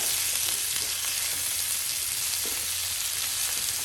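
Vegetables being stirred into creamy white pasta made without cream in a hot pan, a soft continuous sizzle with faint scraping of the spoon, steady and close with no talk.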